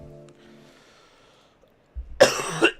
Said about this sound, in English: I still have like coughing and all.